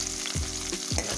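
Dried chilli, bay leaf and onion fry in hot oil for a jackfruit curry, a close, constant sizzle broken by two quick stirring scrapes within about a second.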